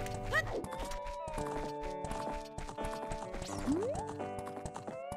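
Hooves of a horse in the video game The Legend of Zelda: Ocarina of Time 3D clop steadily beneath busy game music and chiming effects, with a neigh close by.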